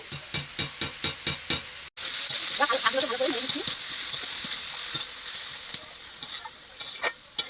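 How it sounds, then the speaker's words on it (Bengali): Vegetables stirred in hot oil in a pan with betha leafy greens about to go in, a quick run of scraping spatula strokes followed by a steady sizzle with more scraping and clatter throughout. "সবজিটা ভালো করে নেড়ে দিচ্ছি"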